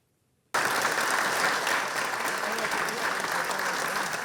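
Dense, loud applause from a ceremony audience at a music conservatory in Val-d'Or, honouring a longtime volunteer; it bursts in abruptly after a moment of silence and holds steady to the end.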